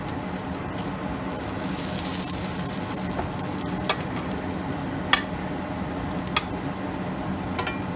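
Egg and bologna frying in a pan for a breakfast sandwich, giving a steady, moderate sizzle with a few brief utensil clicks and scrapes scattered through, no talking.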